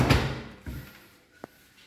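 A wardrobe cabinet drawer in a master bedroom is pushed shut with a solid thump, followed by a softer knock and a brief sharp click, close and fairly quiet.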